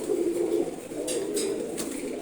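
Domestic pigeons beside a newly bought pigeon coop give low, soft cooing in a steady murmur, with a few faint higher chirps breaking through near the end.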